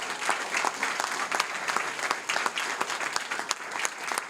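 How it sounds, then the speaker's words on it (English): Sustained round of applause from an audience at a school board meeting honoring a Klein Forest High School staff member, steady dense clapping throughout with no talk over it. "Let's give her another round of applause right here."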